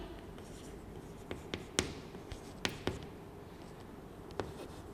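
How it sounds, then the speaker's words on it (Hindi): Marker or chalk writing on a classroom board during a Hindi lesson, heard as a few faint scattered taps and short strokes over a quiet room background, with no talking. "तो यहाँ पर मैं एक उदाहरण लिखती हूँ।"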